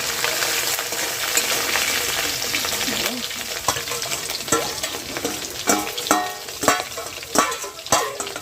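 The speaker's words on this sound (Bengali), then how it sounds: "তো এবার কড়াইতে তেল গরম করা হচ্ছে, তো তারপরে মাছগুলোকে ভেজে নিয়ে রান্না শুরু করবো।" Dried fish fry in hot oil in a wok with a loud, dense sizzle, followed by rhythmic scraping and stirring strokes toward the end.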